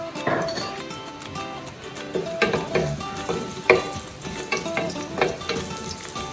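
Chopped onions sauté in hot oil in a pan, a continuous sizzle with repeated stirring scrapes and light clinks of a spoon against the pan.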